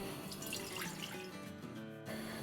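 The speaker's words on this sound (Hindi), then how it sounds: "तो अब इसमें हम डालेंगे 3/4 कप पानी।" Water poured from a cup into a hot pan while cooking Gujarati mohanthal, a brief steady splashing trickle that cuts off abruptly, close and moderately loud.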